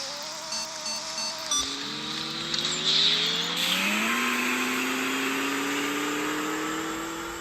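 A car engine revving and accelerating up through the gears, the pitch climbing in steady sweeps with a whirring drone, close and fairly loud throughout with no talking.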